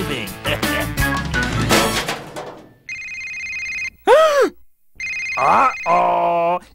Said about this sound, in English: It seems that someone has not turned off their cell phone.